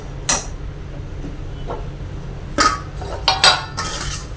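Sesame ball mixture scraped and transferred into another vessel: a few sharp metallic clinks and scrapes of a spoon against a pot, spaced irregularly over a quiet background.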